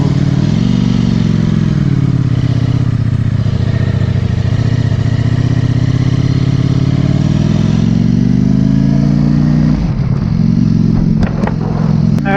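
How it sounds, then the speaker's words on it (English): A 2020 Ducati Streetfighter V4 motorcycle being ridden: a loud, continuous engine drone that holds steady, then rises and drops in pitch as the rider changes speed, with wind noise throughout and a brief clatter near the end. "so we are driving the Ducati Streefighter V4 today"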